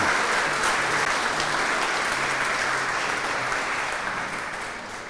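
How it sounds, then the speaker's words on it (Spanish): A church congregation applauds after a Bible reading, with loud, dense, continuous clapping that fills the room and eases off slightly toward the end. "Dele un aplauso a la palabra de Dios."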